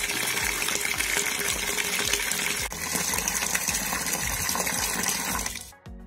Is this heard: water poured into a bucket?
yes